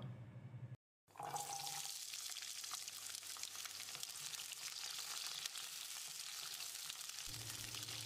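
Small onions tossed into hot oil in a pan for sambar set off a steady, close sizzle and fry that carries on for several seconds, with a brief silent gap near the start.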